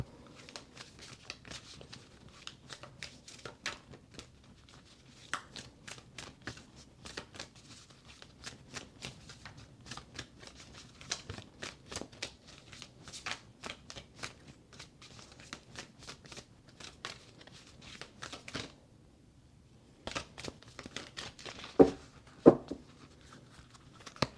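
Tarot cards being shuffled and drawn by hand, a long run of quick papery riffles and flicks in steady bursts, close and fairly soft, pausing briefly near the end before a few sharper card snaps.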